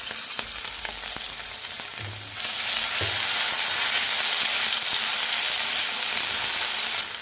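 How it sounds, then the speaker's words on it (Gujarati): Cumin seeds and ginger-chili-garlic paste drop into hot oil and burst into a loud, steady sizzle with a hiss. A few stirring knocks come first, then the frying carries on without a break. "એની અંદર આપણે ચપટી જીરું નાખી દઈશું અને સાથે જ અહીંયા આપણે આદુ મરચાં લસણની પેસ્ટ નાખી દઈશું અને એકદમ સરસ રીતે સોતે કરી લેશું"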